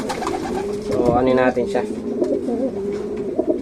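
Racing pigeons coo close by at a pigeon race, making soft, throaty, rolling calls that keep going through the clip. Someone talks quietly over them.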